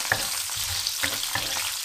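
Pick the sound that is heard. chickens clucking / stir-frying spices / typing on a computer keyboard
stir-frying spices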